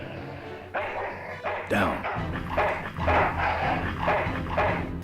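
A dog in the Full Throttle video game barks angrily, a run of sharp, close barks and yips with some whimpering, with someone speaking over it.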